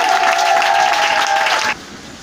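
A church congregation claps and cheers together in acclaim of the Lord, a dense steady wave of applause that cuts off abruptly, leaving a quiet room.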